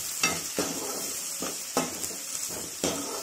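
Onion and turmeric sizzle in a pan for pohe while a spatula stirs and scrapes in regular strokes, each scrape standing out above a steady frying hiss, up close.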